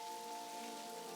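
Steady, soft rain falls in Necrobarista, an even hiss with no talk, layered with a faint sustained tone.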